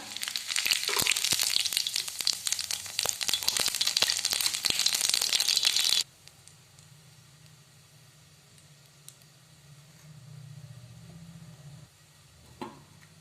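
A spoonful of cumin seeds sizzles in hot oil for whole moong dal, crackling loudly and busily up close for about six seconds before cutting off to a low, quiet background hum.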